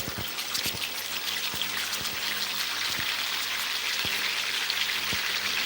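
Fish fries in coconut oil in a pot, a steady soft sizzle and crackle with occasional sharper pops, fairly quiet and heard on its own.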